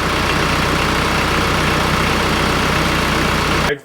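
A 574 tractor engine idling at a loud, steady low rumble close by, running evenly on fuel left in the line before cutting out abruptly at the very end.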